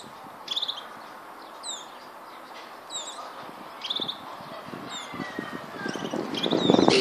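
A young pet bird being fed by its parent gives short, sharp chirps at irregular intervals, moderately near, over a rustling background that grows noisier toward the end.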